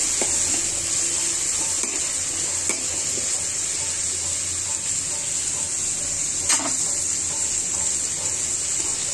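Rui fish frying with mustard paste sizzles steadily in a pan while it is stirred, with occasional scraping and clinks over the constant hiss.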